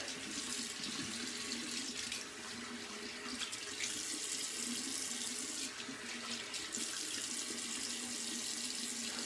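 A bathroom tap runs steadily into a sink for a cold rinse after a wet shave, a constant close splashing flow with no talking.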